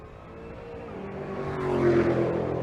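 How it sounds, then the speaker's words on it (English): A big Mopar drag racing car does a burnout at a drag event, its engine roar building and swelling toward the end of a short, fairly distant burst. "an impressive burnout out of the big Mopar"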